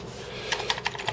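Keys tapped on a repaired Commodore C64C keyboard, about five quick, crisp clicks in a short burst, close and distinct over a quiet background.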